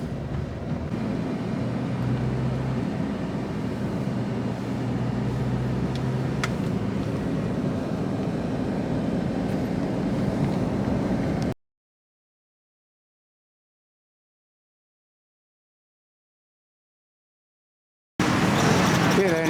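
Taxi ride through Chiang Mai, Thailand, with a low steady engine and road rumble inside the car that cuts to silence partway through, then briefly returns.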